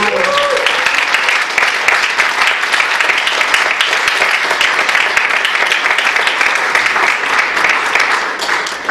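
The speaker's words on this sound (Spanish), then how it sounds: "Le damos otro aplauso al Señor, mis amados." Sustained applause from a church conference crowd fills the room, loud and steady throughout, with some voices mixed in.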